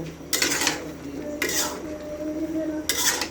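Vegetable curry being stirred in a pan, with three separate bursts of spoon-on-metal scraping and clatter and quieter gaps between them.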